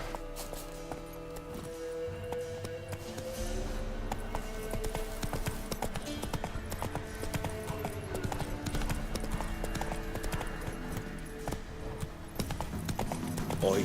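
Roach the horse's hooves clip-clopping steadily in Witcher 3, a continuous rhythmic trot under game ambience and some spoken dialogue.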